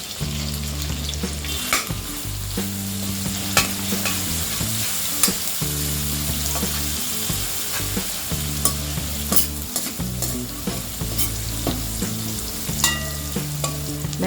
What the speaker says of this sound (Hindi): लहसुन को हम 2 मिनट फ्राई कर लेंगे।